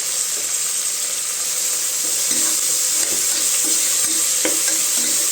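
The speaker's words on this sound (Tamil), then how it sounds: "தக்காளி நல்லா வதங்கணுங்க தக்காளி நல்லா வதங்கிடுச்சுங்க" Tomatoes with a little salt sauté in a pan for Tamil vegetable rice, giving a loud continuous hiss of frying and occasional soft stirring clicks throughout.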